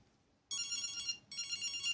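A bright, high-pitched Nokia mobile ringtone trills in two bursts after a moment of quiet, loud and close, no speech.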